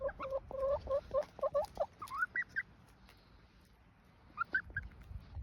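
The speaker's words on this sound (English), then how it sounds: "It's the funny birds." Chickens in a backyard flock on a mild winter day give a run of short, rhythmic clucks up close for about two seconds, then a quieter stretch before a few more clucks, with no talking.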